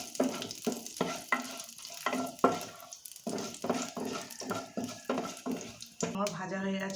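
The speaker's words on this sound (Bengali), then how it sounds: "তেলটা গরম হয়ে গেছে, ওতে আমি এবার পাঁচফোড়ন, শুকনো লঙ্কাটা একটু ভেজে নিচ্ছি।" Panch phoron and dried red chilli fry in hot oil, a busy crackling sizzle broken by repeated sharp scrapes of a spatula stirring against the pan, close and fairly loud.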